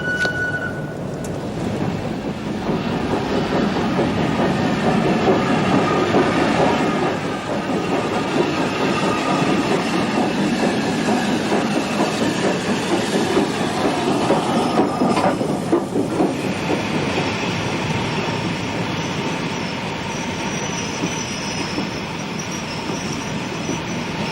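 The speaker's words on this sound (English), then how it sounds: "Ah, here's the train." A train rumbles in steadily with rolling wheel noise and occasional high metallic squeals, loud and continuous for the whole stretch.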